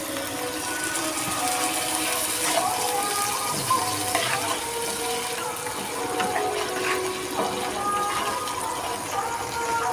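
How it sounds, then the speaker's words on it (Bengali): Spice-rinse water is poured into a pan of koi fish frying with garam masala powder, giving a steady watery hiss and sizzle that runs unbroken and fairly loud throughout. "দিয়ে দেব অল্প একটু মশলা ধোয়া জল"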